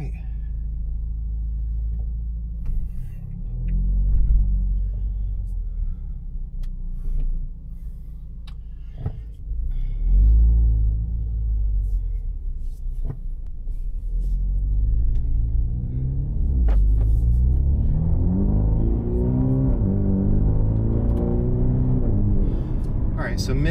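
A 2024 Mini Cooper Clubman JCW with a Dinan exhaust drives along, its engine rumbling and rising through several revving accelerations with a deep burbling note, heard from inside the car while a person talks over it.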